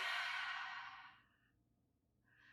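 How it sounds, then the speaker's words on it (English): A slow open-mouthed exhale during a guided yoga breathing exercise, a soft airy breath that fades out over about a second and a half, followed by a brief faint second breath. "Open mouth, exhale."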